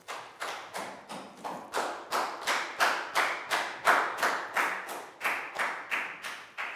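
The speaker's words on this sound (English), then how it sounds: "high five and a big round of applause" Steady rhythmic clapping of a small classroom group, roughly three claps per second, sharp and near, continuing alone for several seconds as a round of applause for a Year 4 student during a phonics lesson.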